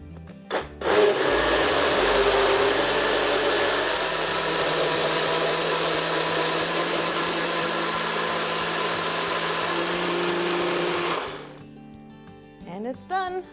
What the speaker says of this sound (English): So we are going to put this top on. Get that nice and tight. Shake it up a bit.